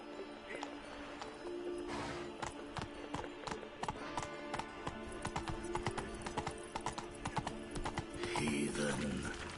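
Roach, a horse in The Witcher 3, gallops with a steady run of hoof clip-clops, a whinny rising near the end, all beneath a voice and game music.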